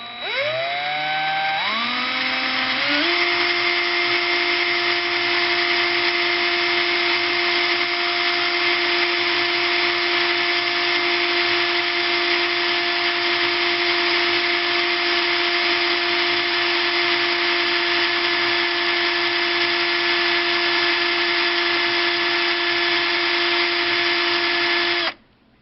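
A locksmith's power drill whirs up to speed in reverse and then runs at a steady, loud, high-pitched whine for more than twenty seconds before cutting off abruptly.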